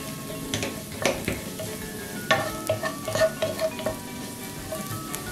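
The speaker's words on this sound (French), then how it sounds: "Quand vous voyez ça commence à cuire, vous allez rentrer les courgettes, les oignons et les champignons" Courgettes, onions and mushrooms fry in a pan with a constant sizzle, overlaid by repeated clinks and scrapes of a utensil stirring against the pan, close and fairly loud with no speech.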